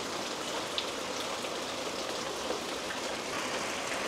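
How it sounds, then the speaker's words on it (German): Steady rain falls evenly with a dense, hissing patter and no voices. "Das ist ein Regen, den sie überhaupt nicht angekündigt haben."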